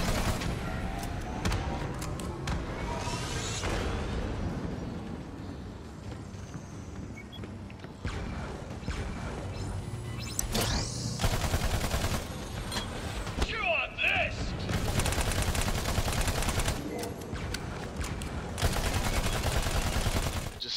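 Video game gunfire from Battleborn rings out in repeated bursts and rapid volleys, mixed with mechanical clanks and other game effects, while a player talks over it.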